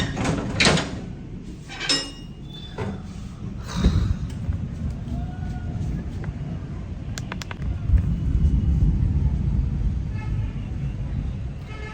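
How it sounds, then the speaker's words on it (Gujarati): A deep, low rumble of thunder rolls in the background and swells louder toward the end, with a few sharp knocks earlier on. "બેકગ્રાઉન્ડમાં તમને લોકોને વીજળીનો અવાજ સંભળાતો જ હશે"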